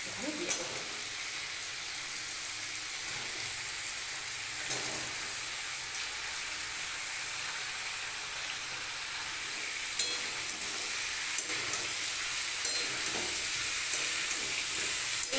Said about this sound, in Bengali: এইটা আমার এখন একটু ফ্রাই হোক, মানে একটু ভাজা ভাজা হোক